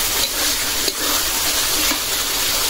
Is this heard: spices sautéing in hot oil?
yes